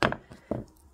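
Wire cutters snip wire ends on a wire wrap pendant, giving two sharp close clicks about half a second apart, followed by faint handling.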